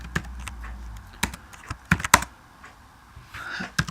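C++ code being typed on a computer keyboard, sharp key clicks in irregular bursts with a few louder strikes and short pauses, close and clear, no voice.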